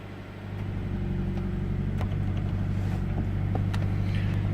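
A car that has been sitting for a while starts up and settles into a steady, loud idle with a constant low hum and occasional small knocks, running alone without talk.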